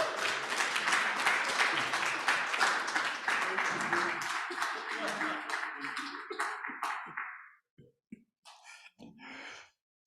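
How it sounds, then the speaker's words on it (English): Audience applause welcoming a poet to a reading: dense, steady clapping from a full room for about seven seconds, then it thins out and ends with a few scattered claps. "Please heat your hands with welcoming applause to Uche Nduka"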